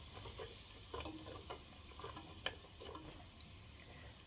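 Onions in oil being stirred in a pot for cabbage soup: a soft, steady sizzle with faint scraping strokes of a spoon, quiet and close, with no talk.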